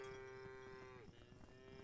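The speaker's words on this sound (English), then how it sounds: "Those cows are loud." A cow moos in the farming video game Farm Together, one sustained low tone that bends downward at the end, heard faintly over quiet background game ambience with no talking.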